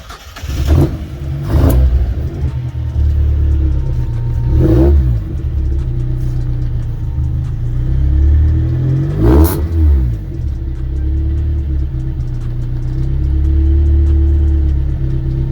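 A car engine idles with a low rumble, the car up on jack stands in first gear with wheels spinning freely, revving sharply a few times before settling back, steady mechanical whirring between bursts, close by with no voices.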